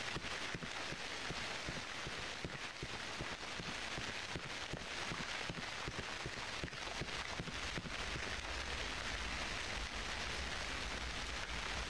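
Steady rain patters and hisses evenly throughout, with scattered louder drops and a faint low rumble, no voices, in the video game Cry of Fear.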